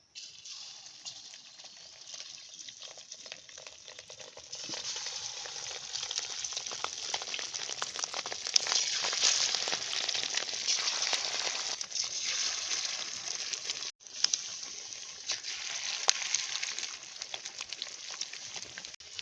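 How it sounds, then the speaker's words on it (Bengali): Fish roe koftas fry in hot oil in a wok on a stove, giving a soft continuous sizzle that grows denser after a few seconds and briefly drops out before resuming. "এবার কোপ্তাগুলোকে ভেজে নিচ্ছি"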